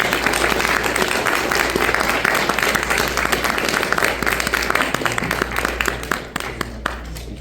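An audience applauding warmly for a novelist at a live reading event, dense sustained clapping throughout that thins out toward the end.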